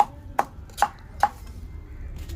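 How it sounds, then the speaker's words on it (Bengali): Ginger and garlic being pounded at close range: four evenly spaced sharp thuds about half a second apart, followed by quieter soft handling noise. "দেখতেই পাচ্ছ আদা রসুন ঠুকছে।"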